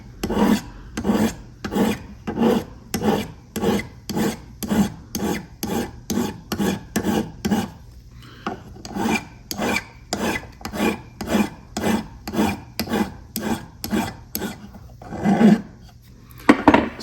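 Steady, rhythmic rasping strokes of a jeweler's file cutting metal, about twenty even passes close up with a short pause midway, no talking.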